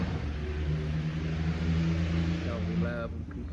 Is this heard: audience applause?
no